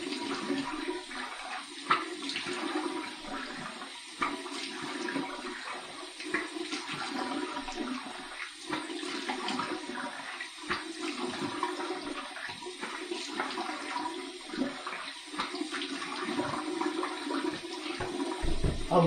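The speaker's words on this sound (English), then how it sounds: "Here's my warm water rinse." Warm water running from a tap while a face is rinsed after a shave with a stainless steel open-comb razor, a steady close rush of water with splashing over about twenty seconds.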